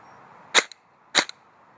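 Custom-built ACR airsoft rifle firing two sharp semi-auto shots about half a second apart, each a crisp close snap with a short mechanical click trailing it, over quiet background.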